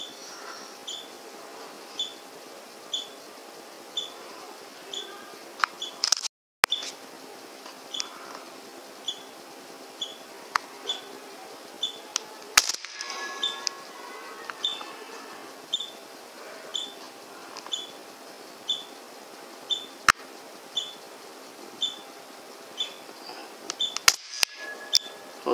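A .22 PCP air rifle, Hatsan or Gamo, fired at weeds outdoors: a series of sharp, dry cracks in irregular bursts with brief pauses between, fairly close, set against faint steady background noise and no speech.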